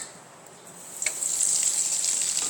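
Spices hitting hot oil and butter set off a sudden crackle about a second in, then settle into a steady, close, fairly loud sizzle with no talking.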